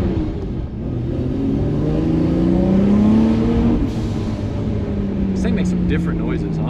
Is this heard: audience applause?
no